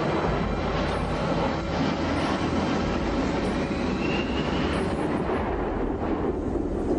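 A fully automated, computer-flown airplane roars past in flight, a loud, constant broadband engine rush with a faint rising whine partway through.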